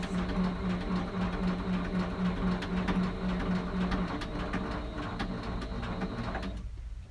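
A sewing machine stitches down the raw edge of fabric applique, running with a steady, close mechanical whir for several seconds before stopping just at the end.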